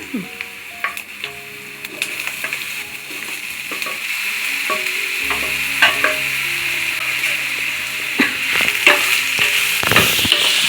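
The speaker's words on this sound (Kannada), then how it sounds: "ಇದು ಮಶ್ರೂಮ್ ಹಾಕ್ತಾಯಿದ್ದೀನಿ" Mushrooms dropped into hot oil in a pan for mushroom sambar, a steady sizzle building as they fry, with scattered clinks and scraping of stirring close by.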